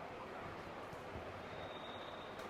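Steady rumbling hum of a passenger train from inside a carriage, continuous and even, with faint background voices.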